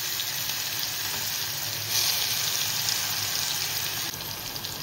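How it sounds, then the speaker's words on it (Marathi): Garlic cloves hit hot oil in a pan and set off a steady, fairly loud sizzle that runs the whole time, with a brief rise partway through and no talking. "तेल तापलेले लसणाच्या पाकळ्या टाकूया।"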